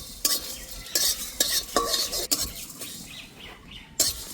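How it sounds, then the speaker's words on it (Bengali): Fennel seeds with coriander and dried red chilli frying in a pan for a raw mango sauce, a steady close sizzle broken by several sharp scraping stirs of a spoon against the pan. "এবার দিয়ে দেবো মৌরি।"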